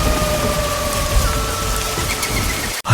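Heavy rain pours steadily and loudly throughout, with a low rumble of thunder underneath and a brief sharp dip near the end before the downpour resumes.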